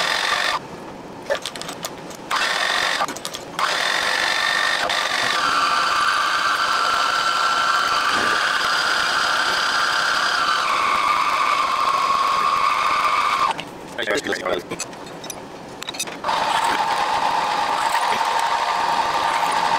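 Metal pieces being bored out on a lathe while making a crankshaft for a Stuart 10V model steam engine, giving a steady machine whine with tonal cutting squeal that runs continuously, interrupted by brief pauses near the start and later on.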